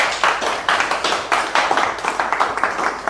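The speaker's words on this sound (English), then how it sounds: "let's get another round of applause for Dan." Steady applause from a PHP conference audience, many hands clapping at once in a dense, even patter with rhythmic swells, close and fairly loud, with no talking.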